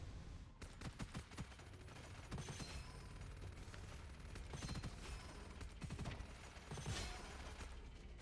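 Rapid bursts of powered-up gunfire in Gunfire Reborn, dense overlapping shots rattling almost continuously over several seconds with brief gaps, loud and close.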